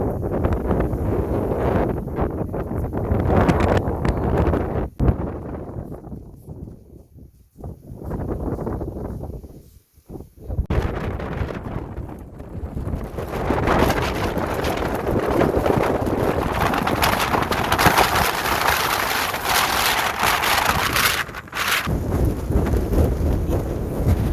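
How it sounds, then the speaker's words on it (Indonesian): Strong storm wind roars over a mountain summit on Gunung Talang, buffeting loudly in broad gusts that briefly lull then surge back into a sustained, heavy rush. "kondisi badai kencang sekali"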